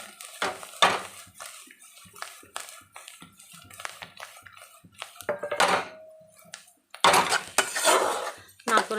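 A metal spoon scrapes and clanks against a pan while egg bhurji is stirred with fresh coriander, coming in irregular bursts with quieter gaps, the loudest stretch near the end.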